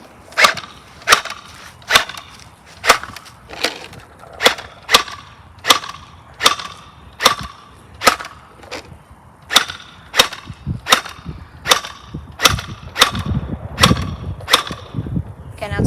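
A toy blaster fires on semi-automatic, about twenty sharp snapping shots in a steady rhythm of roughly one per second, each a crisp crack, loud and close, with faint outdoor rumble between shots.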